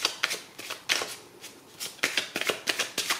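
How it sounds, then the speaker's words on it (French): Petit Lenormand cards being handled and shuffled, a run of quick papery riffles and slaps in uneven bursts, close and fairly clear with no talking. "je vais prendre 9 cartes du petit Lenormand"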